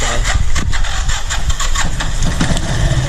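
A motorcycle engine straining to start on a weak battery, a loud, sputtering crank that stutters unevenly for about three seconds, close by and alone.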